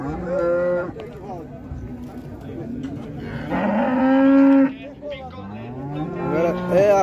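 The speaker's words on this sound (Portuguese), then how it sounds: "já vê um monte de gado aqui de vaca." Several cows moo loudly and close by at a cattle fair in Águas Belas, Brazil, long drawn-out lowing calls one after another, with a busy farmyard background.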